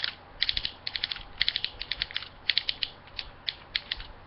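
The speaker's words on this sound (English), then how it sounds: "And you ready to listen to this? A very nice ratcheted knee." Ratcheting knee joint on a Gosei Ultimate Megazord toy gives off sharp plastic clicks in quick bursts and steady runs, close and crisp, with no talk.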